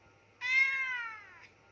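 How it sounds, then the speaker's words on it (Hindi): A single clear cat meow, drawn out for about a second with a rising then falling pitch, fairly close against a quiet background. "बिल्ली की आवाज ऐसी होती है।"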